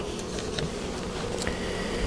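Honey bees buzz around an open hive during an Apivar varroa treatment, a steady close-up drone with a few brief higher whines of individual bees passing near.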